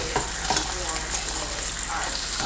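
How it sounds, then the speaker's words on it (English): Oatmeal with blueberries and craisins stirred in a hot pot, heard as a continuous bubbling sizzle with a few soft utensil scrapes, close and steady. "Oatmeal, stir this up some more."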